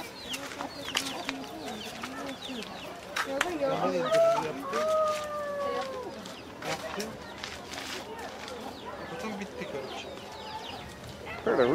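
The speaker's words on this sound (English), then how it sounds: "Heard a rooster up here somewhere." A rooster crows once, moderately close, among scattered clucking and chirping birds, with faint human voices in the background.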